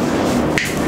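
A handheld shower sprayer for bathing in a rented house gives a short close hiss of spraying water over a brief wet squishing burst, over in under a second.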